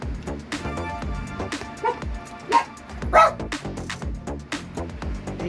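Several dog barks and yips pop out in short bursts over a busy backdrop of music, fairly close and irregularly spaced.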